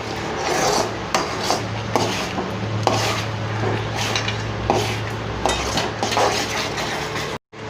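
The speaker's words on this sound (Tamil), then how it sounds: "இன்னுமே நல்லா திக்கான கன்சிஸ்டன்சி வர வரைக்கும் நம்ம வந்து மிக்ஸ் பண்ணலாம்" A thick mango pulp mixture is stirred in a pan, giving repeated rasping, scraping strokes of a spoon against metal in an uneven rhythm over a low hum, close up and with no speech.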